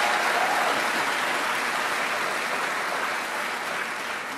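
Dense, sustained applause from a large ceremony audience in Kigali honouring Ellen Johnson-Sirleaf, a steady wash of clapping that holds strong throughout and eases slightly toward the end.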